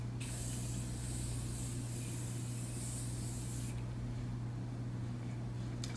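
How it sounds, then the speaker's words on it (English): A fine, steady hiss of Tarte Maracuja Miracle Mist face mist spraying close by for several seconds, then cutting off, with a low hum underneath. "I think I might actually spray a little bit of my Tarte Maracuja Miracle Mist."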